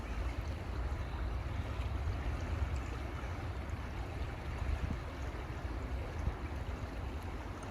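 Steady, continuous rush of flowing water, full and broadband with a low rumbling undertone, holding an even level throughout with no voices.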